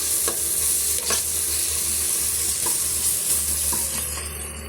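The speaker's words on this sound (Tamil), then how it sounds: "இப்போ இதையுமே ஒரு 2 நிமிஷம் வதக்கி விட்டுக்கலாங்க." Steady sizzling of ginger garlic paste frying in a pan, with occasional scraping stirs of a spoon against the metal, continuous and fairly close.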